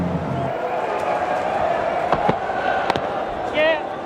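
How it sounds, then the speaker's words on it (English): A home crowd at a Melbourne cricket match between Australia and New Zealand gives an ovation as batsman Ian Harvey walks to the crease. The crowd roar and applause run steadily beneath commentary, with a few sharp claps standing out. "Wonderful ovation."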